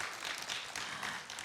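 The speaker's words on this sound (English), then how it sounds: "Round of applause," Audience at a book signing for author Monique Rodriguez claps in a brief, faint burst of applause.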